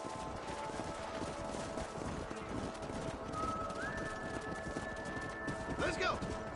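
Horse hooves clip-clop steadily in the Red Dead Redemption video game, a busy rhythmic clatter running throughout among other background game sounds, with a whinny-like sweep near the end.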